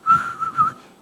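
A person whistles a short tune of about three clear, steady notes, close and moderately loud, with no talking.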